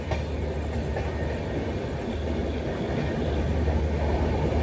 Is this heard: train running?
yes